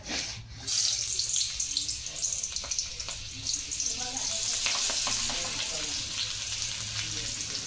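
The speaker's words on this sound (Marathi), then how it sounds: "तर तेल खूप उडते गाईस" Chopped onion fries in a pan of hot, spattering oil for a fried rice dish, a loud continuous sizzle with crackling pops and stirring scrapes throughout.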